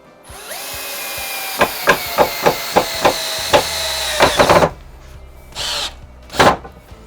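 A power drill bores pilot holes into old whiskey barrel wood for a bench, giving a rising whine and then a rapid series of sharp knocking bursts, followed by short separate trigger pulls, close and loud with no talk.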